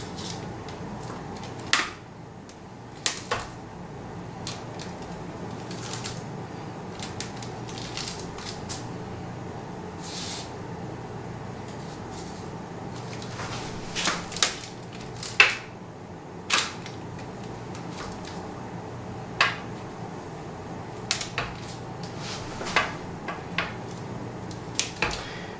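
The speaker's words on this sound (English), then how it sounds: "And then we cut them into cracker shapes using a pizza wheel" A pizza wheel cutting sourdough discard cracker dough into shapes, producing scattered soft clicks and taps at irregular intervals over a quiet kitchen background, close but faint.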